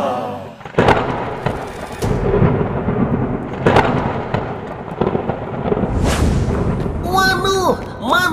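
Thunder rolls through a rainy storm in the Sakura School Simulator game. Several loud, deep booms and crashes break out over a continuous rumble, and a voice is heard near the end.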